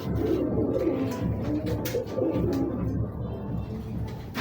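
Coos from a racing pigeon, a male bird, come in soft repeated low phrases, close and steady over a background hum, with no talk over them.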